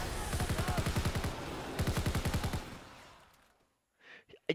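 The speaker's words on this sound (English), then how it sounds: "I'm shooting a teammate in the fucking face again!" Rapid automatic gunfire in Call of Duty WWII, two loud sustained bursts of evenly spaced shots, then a fade and a few sharp, brief noises near the end.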